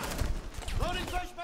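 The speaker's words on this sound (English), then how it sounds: "They're firing down at Hacksmore right now." In Rainbow Six Siege, a rapid burst of gunfire crackles at moderate distance for a moment, partly under a player's voice talking.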